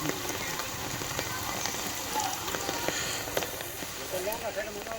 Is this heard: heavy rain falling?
yes